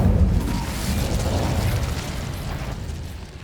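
The Incendio fire spell in the video game Hogwarts Legacy bursts out with a deep boom that fades into a rumbling, crackling roar of flame, loud and close, with no voices.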